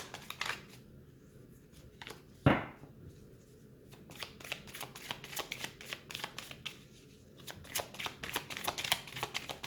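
Playing cards being shuffled close by in repeated crisp riffling bursts, with one sharper snap early on and no talking.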